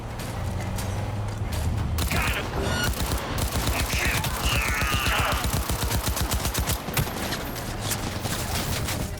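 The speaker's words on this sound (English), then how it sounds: "There's some gunfire." Rapid gunfire rattles in the video game Cyberpunk 2077, with dense bursts of automatic shots and mechanical clatter filling several seconds, loud and close over a low game-music bed.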